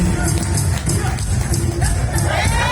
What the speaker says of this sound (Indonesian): tepuk tangan untuk Bapak Bupati